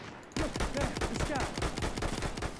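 Gunfire in the video game Battlefield 1: a sudden, loud stream of rapid automatic shots that keeps going in a dense, clattering rhythm after a brief quiet start.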